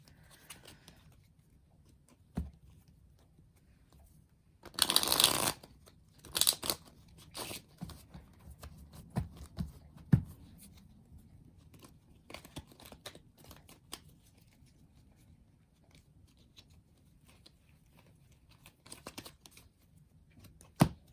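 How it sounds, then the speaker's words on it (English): Several bursts of tarot card shuffling, papery riffles and crisp snaps with quiet gaps, close and otherwise alone, with one loud riffle early on. "I have shuffled these before, but I will be shuffling them just a little bit more."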